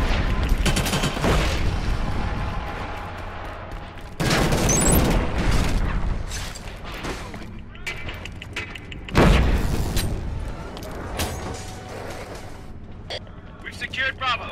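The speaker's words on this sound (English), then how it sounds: "Grenade out!" Grenade explosions in Killzone: Shadow Fall, with several heavy booms spaced apart amid ongoing battle noise, and voices speaking between them.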